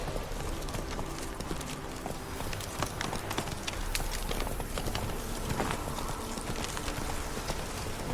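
Horse hooves clip-clop steadily at a running pace in The Witcher 3 video game, a continuous rhythmic stream of close, moderately loud hoofbeats over a dense background.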